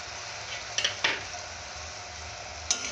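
Potatoes sauté in a pan, a soft steady sizzle with a few sharp clinks of a spoon scraping and stirring against the metal.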